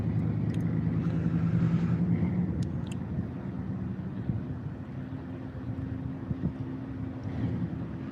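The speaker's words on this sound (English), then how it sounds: "there goes the Dalton Police Department slipping back by, headed north" A Dalton Police Department car drives past on a highway, a low rumbling engine and tire roar heard from outdoors under gusty wind noise.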